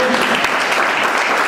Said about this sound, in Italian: tra i padrini che vedete qui sul palco salutiamo con un grosso applauso Andrea Verocco